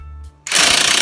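A 19mm brake caliper bolt being broken loose on a 2008 Nissan Sentra: a low hum cuts out, then a loud, harsh burst of rapid hammering impact wrench noise begins and continues.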